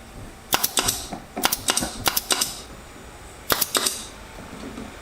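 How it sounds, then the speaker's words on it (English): Pin gun firing into a glued wooden tray, sharp snapping shots in quick clusters of two or three, close and loud against a quiet workshop background. "just gluing up the tray and pinning it together with a pin gun."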